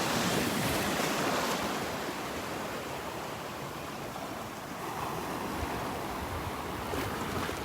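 Steady rushing surf of small ocean waves washing onto the beach at Delnor-Wiggins, with wind buffeting the microphone throughout; no voices.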